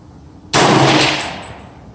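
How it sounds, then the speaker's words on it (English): A single loud, close gunshot from a 300 Blackout rifle with an LFA complete upper firing a Hornady GMX round at a 25-yard range, a sharp crack that rings and decays over about a second and a half. "now I'm going to be shooting at 25 yards with Hornady GMX full bore at 25 yards."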